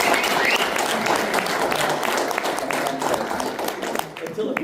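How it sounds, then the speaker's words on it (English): Audience at a community meetup panel in Winnipeg breaks into loud, sustained applause, dense clapping filling the room throughout with scattered voices mixed in. "Let's give a big round of applause for Perry."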